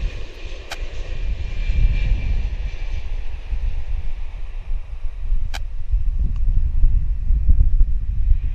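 A passenger airplane touching down at Vancouver Airport, a loud, steady roar of engines and wind rumble rolling on throughout, heard from nearby outdoors with a couple of faint clicks.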